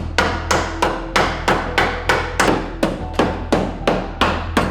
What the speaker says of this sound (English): let me hammer it